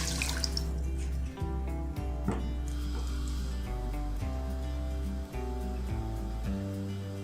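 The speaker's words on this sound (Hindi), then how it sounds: "सॉस कुक करने के लिए सबसे पहले पानी ऐड करें" Water pours steadily into a pot for cooking sweet chili sauce, a continuous close splashing stream with faint clinks, no talking.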